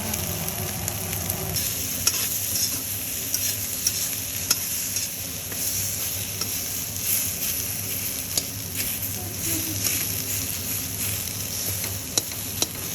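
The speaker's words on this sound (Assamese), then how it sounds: "ইয়াত আলু দিবা আৰু বিলাহী দিবা।" Potatoes and tomatoes fry in a pan with a constant loud sizzle, while a utensil stirs and scrapes through the food, adding occasional sharp clicks over the hiss.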